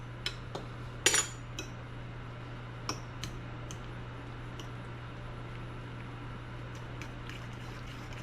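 A utensil stirs lasagna filling with an egg in a bowl, giving a few sparse, light clinks and scrapes, one sharper clatter, over a steady low hum in a quiet kitchen.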